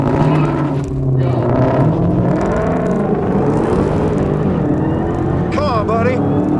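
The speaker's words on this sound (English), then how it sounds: "Oh, wheel spin's gnarly." A muscle car launches off the line in a drag race, its engine roaring and wheels spinning, heard loud and close beneath excited voices talking and shouting over it.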